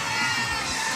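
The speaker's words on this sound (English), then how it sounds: "The crowd's going a little wild here for another set that's happening next." A crowd at a Super Smash Bros. Ultimate esports tournament cheers and shouts wildly, a dense, loud roar of many voices filling the whole moment.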